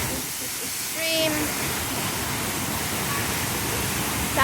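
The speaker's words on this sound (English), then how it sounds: "we are just on Mt Rinjani waterfall" Broad steady roar of the waterfall on Mt Rinjani, loud and constant throughout, with a few faint bird chirps on top.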